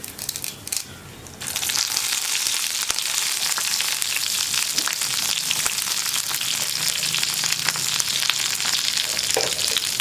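Dried red chillies and curry leaves crackle and sizzle loudly in hot oil as the tempering for a brinjal sambar cooks, a dense steady frying hiss with occasional stirring scrapes and no talk.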